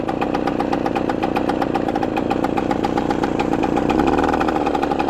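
A 1970 Yamaha AT1 125 motorcycle engine idles close and loud at a slightly fast idle, its steady, rapid popping beat continuing throughout.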